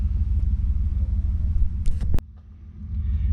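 A Mazda RX-8 rotary engine cranks with a steady low rumble, then catches abruptly near the end, a sharp burst followed by a lower, rougher idle.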